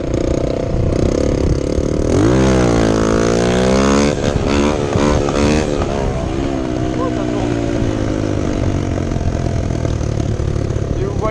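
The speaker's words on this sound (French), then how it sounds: "La moto galérer à se lever, c'est parce que c'est meuble en dessous." An enduro motorcycle engine revs up hard during a wheelie on soft ground, rising and falling in pitch as it strains, then settles into a rough steady drone nearby.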